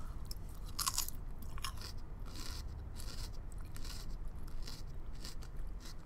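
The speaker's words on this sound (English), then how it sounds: "The crunchy part, the center, the spine, the rib of the cabbage." Someone bites into a crunchy lettuce or cabbage rib right at the microphone, giving a run of crisp crunches and chewing bursts, quiet overall and with no voice over them.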